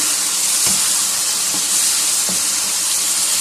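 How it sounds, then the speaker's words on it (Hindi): Chicken masala frying on a high flame, a loud steady sizzle throughout with three faint stirring scrapes spaced about a second apart; no speech. "अभी इसको हम करेंगे तेज़ आंच के ऊपर अच्छी तरह से फ्राई और ड्राई।"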